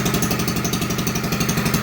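A 1964 Lincoln Weldanpower 150 welder generator's engine running steadily, a loud close rhythmic chugging drone with a rapid regular pulse and no pauses.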